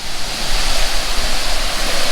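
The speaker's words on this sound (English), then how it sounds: "You can see the waterfall down through the woods." Waterfall on Laurel Fork Falls Trail in the Jocassee Gorges, a steady broadband rush of falling water heard from a distance through woods, continuous and fairly loud with no voices.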